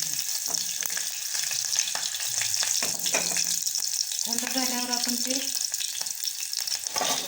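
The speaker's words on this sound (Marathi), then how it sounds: "आता मिरची, कढीपत्ता आणि मोहरीची आपण फोडणी." Green chilli, curry leaves and mustard seeds crackle and sizzle in hot oil for a tempering, a close, steady frying noise with scattered pops. A voice speaks briefly over it.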